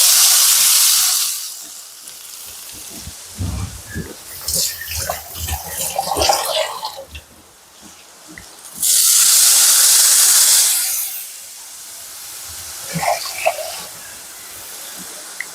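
Water gushes into a cooking pot in a home kitchen, a loud rushing pour in two long bursts separated by quieter clinks and handling noises, with no talking.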